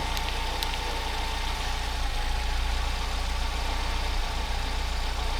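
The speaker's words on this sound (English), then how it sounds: "It's got it sitting there idling away" A car engine idles steadily with a low, even rumble and slight mechanical ticking, close by and unchanging throughout.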